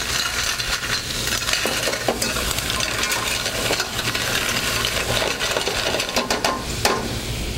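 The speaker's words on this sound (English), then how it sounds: "So I'm going to add my mussels and clams to the pan." Mussels and clams with chorizo sizzle loudly in a pan, shells clinking and rattling against the metal in sharp bursts over a steady frying hiss, with no speech.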